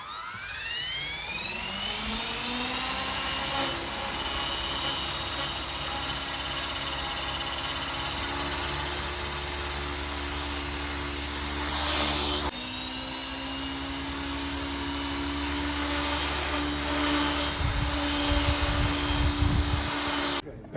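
An RC model helicopter engine runs steadily at high pitch, spooling up in the first seconds and then holding a loud, continuous whine that fills the whole stretch, with brief shifts in tone near the middle.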